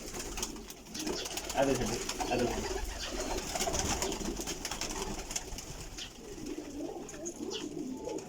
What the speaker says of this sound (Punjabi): ਲੋ ਜਨਾਬ ਇਹ ਵੇਖੋ ਓਰੀਜਨਲ ਟੇਡੀ ਕਬੂਤਰ।